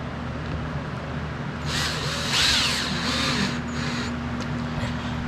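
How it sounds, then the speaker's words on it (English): A power drill drives screws through a template fitted onto a Harley-Davidson touring saddlebag lid, with a short whirring burst and rising screw whine over a steady background hum. "we're going to throw these 2 screws in to hold the template in place while we do our cutting."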